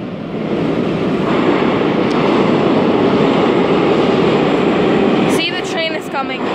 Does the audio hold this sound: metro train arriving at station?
yes